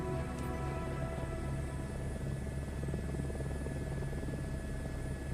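A helicopter flying in Microsoft Flight Simulator, heard as a continuous rotor drone with a steady thrumming beat and engine whine that holds evenly throughout, close and loud, with no talking.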